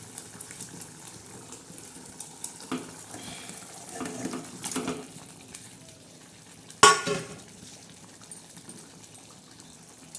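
Fish pieces are stirred in a pan of spicy simmering masala, soft sizzling and bubbling with scattered scraping stirs and one sharper clatter, close by with no talk.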